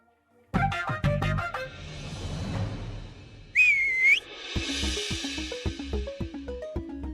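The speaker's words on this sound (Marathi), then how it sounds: "हो, मी शिट्टी वाजवली." A person whistles a short tune in a tonal melody, loud and close, with music playing underneath and a brief sliding whistle partway through.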